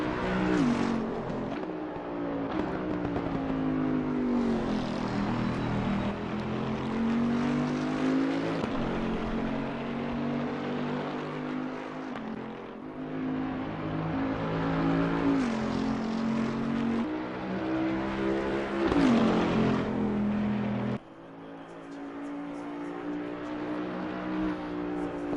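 A Bentley GT3 race car engine roars continuously in a racing video game at Mount Panorama, its pitch rising through the gears with sharp drops at each shift and a braking downshift near the end, loud and close with commentary over it.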